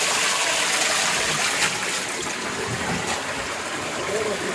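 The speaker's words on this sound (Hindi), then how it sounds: "पहाड़ों से पानी निकल रहा है।" Water flows out of a tunnel in the mountains through a karez channel at Khushab in Balochistan, a steady, close rushing and trickling wash that continues without a break, with faint speech underneath.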